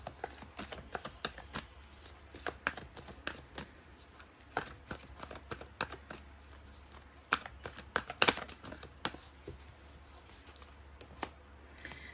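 A tarot card deck is shuffled by hand, producing a run of crisp riffling snaps and papery rustles that come in irregular bursts, close and fairly quiet.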